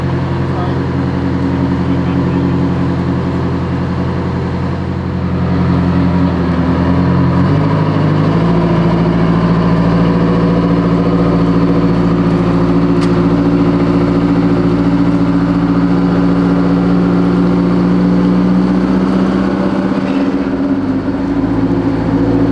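A diesel engine runs loud and close under a stress test, a steady heavy drone whose pitch steps up partway through and then holds high, with a brief dip near the end.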